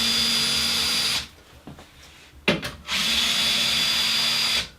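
A power drill mounted on a workshop workbench runs with a loud, steady whine, cuts off for about two seconds with a few knocks and clatters, then spins up again to the same even drone, without any voices.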